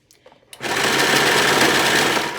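A sewing machine stitches a sundress, starting after a brief pause of small handling sounds and then running steadily and loudly without a break.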